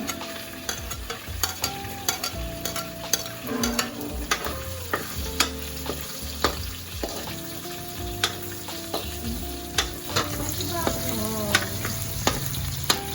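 Garlic frying in a pan at home while dinuguan is being cooked: a constant background sizzle with frequent sharp clinks and scrapes of a utensil against the pan, close up, and a few faint voices in the distance.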